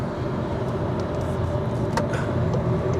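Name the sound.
VW eGolf electric car accelerating at full power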